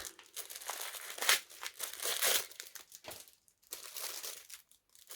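Wrapping paper on a Christmas present crinkles and tears as it is pulled open, loud bursts of crumpling with short pauses between them, no voices.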